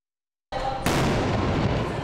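A simulated explosion in an earthquake disaster drill, where residences explode and buildings collapse: after half a second of silence a loud blast breaks out, then a sustained roaring rumble fills the rest of the clip.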